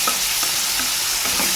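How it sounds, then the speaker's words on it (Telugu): Ginger garlic paste fries in a hot pan while bitter gourd curry is cooked, giving a loud, close, continuous sizzle with a few soft stirring scrapes and no talk. "అల్లం వెల్లుల్లి పేస్ట్ అనేది వేసేద్దాం"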